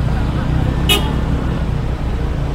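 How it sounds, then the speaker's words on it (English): Heavy night traffic rumbles steadily on a busy street near Double Six in Bali, and a single short car horn toot sounds near the start over the engine drone. "Big traffic."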